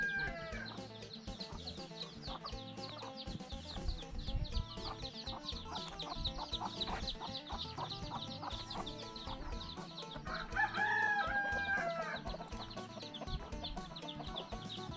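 Chickens cluck and a rooster crows in a forest hill village, the birdsounds steady and fairly close over a busy background, with one louder call standing out near the end.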